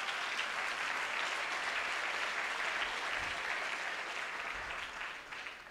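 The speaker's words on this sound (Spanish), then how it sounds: "Un aplauso para ustedes." Steady audience applause fills a business opportunity meeting, a dense, even wash of clapping lasting about six seconds before easing slightly at the end.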